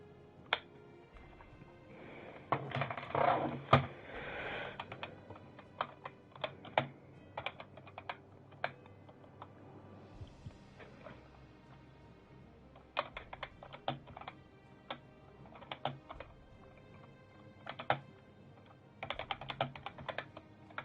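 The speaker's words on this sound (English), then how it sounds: "trying to clean out my keyboard, trying to see what" Computer keyboard keys clatter steadily while the keyboard is being cleaned out, with bursts of rapid close-up clicking and tapping broken by short pauses, with no voices.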